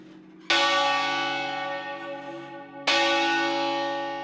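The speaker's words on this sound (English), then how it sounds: "This is the heaviest bell in the tower" The heaviest bell in a church tower, cast from bronze of copper and tin and weighing about 1.5 tons, strikes twice, each deep, rich toll ringing out and slowly decaying, with no voices.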